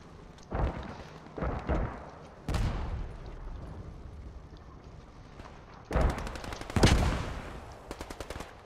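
Machine gun bursts in a World War II-style video game, a few short distinct volleys separated by pauses, with a sharp rattling burst near the end, moderately loud with no talk.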